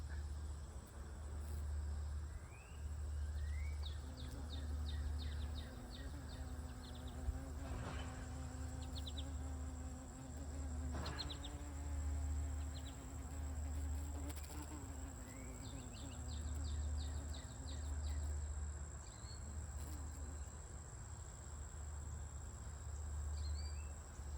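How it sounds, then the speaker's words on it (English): Steady low buzzing of carpenter bees at maypop flowers drones on and off over a constant hum, with faint bird chirps and insect calls in the background. "I love the carpenter bees on the maypops."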